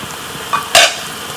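Garlic and chilli hitting hot oil in a home kitchen pan, a brief sharp sizzle burst with a faint stir just before, then quiet.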